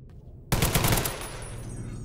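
A light machine gun fires in the Fallout New Vegas video game: after a quiet moment, a sudden loud, rapid burst of shots rings out, then its echo trails off.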